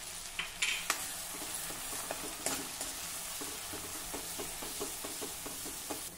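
Ground spice paste sautéing in oil on very low heat crackles softly, broken by repeated light scraping strokes of a spoon stirring the pan.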